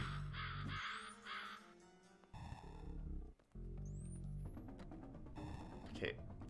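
Cawing crows in a fantasy video game battle, harsh repeated calls mixed with game effects and rising whoosh tones, loud and busy with music-like layers throughout.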